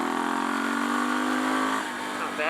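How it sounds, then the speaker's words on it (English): A dual-sport motorcycle engine is held at full throttle at about 3,600 feet of elevation, giving a loud, steady, high-pitched roar with a slight rise in pitch before it dips near the end. "Let me do a full throttle here."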